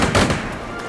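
Weapons fire in the World War II strategy game Strategic Mind: Blitzkrieg, heard as a short, loud burst of sharp cracks and thumps that quickly fades out.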